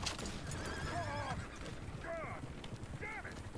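In the Western video game Red Dead Redemption, a horse whinnies in rising, wavering calls that repeat about three times, with hoof clip-clops and outdoor ambience around them.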